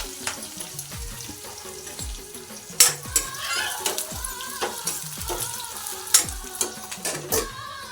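Chillies and onion frying in a pan, a continuous crackling sizzle with spatula stirs and scrapes, close and moderately loud, plus occasional sharper clatters.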